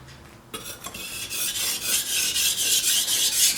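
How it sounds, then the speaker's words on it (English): A kitchen knife drawn across a fine-grit whetstone, producing steady, close rasping strokes that repeat in a smooth rhythm after a brief quiet start. "So this is a finer stone. It's gonna give us a finer sharpness."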